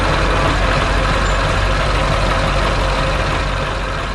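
A big cartoon truck transforms into a blue construction machine, giving a loud, dense, continuous heavy-engine rumble and mechanical roar that holds steady throughout without pause.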